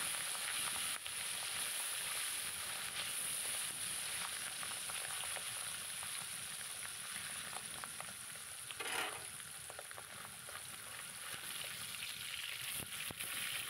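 Turmeric-coated pabda fish fry in plenty of hot oil, giving a faint, steady crackling sizzle with an occasional brief pop or stir, heard close but quiet and without speech.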